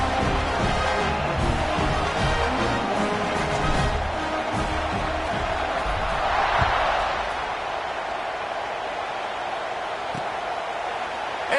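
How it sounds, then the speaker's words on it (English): A football stadium crowd buzzes after a touchdown, a dense, steady roar of many voices that swells and fades slightly. "this crowd is buzzing after that last score"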